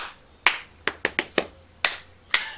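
A single person claps out a rhythm for a children's sensory story, seven crisp close hand claps in an uneven pattern, some in quick pairs, with quiet gaps between and no talking.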